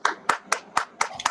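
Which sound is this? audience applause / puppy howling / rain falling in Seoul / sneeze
audience applause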